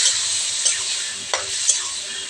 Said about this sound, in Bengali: এবারে মোচাটা ছেড়ে দে। আলুটা ভাজা হয়ে গেছে